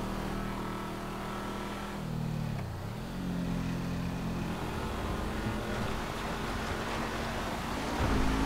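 Damaged car driving in a video game, a steady mid-pitched engine drone whose pitch dips and rises as it strains to gain speed, loud and continuous with no talk.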